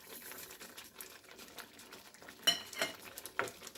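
A spoon scrapes and clinks against a pan as sugar is stirred into thick red velvet halwa, with irregular close scraping strokes and a few sharper metallic knocks.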